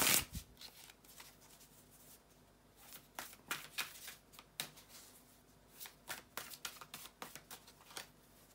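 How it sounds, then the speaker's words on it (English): Tarot cards being shuffled by hand, a quiet close-up run of soft riffling bursts and sharp card snaps that come in uneven clusters with brief pauses between them. "bear with me a second, guys, to shuffle the tarot cards"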